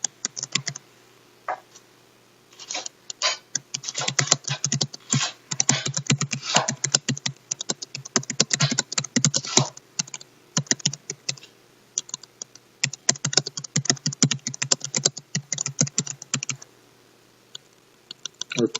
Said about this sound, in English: Let me type this in just in case.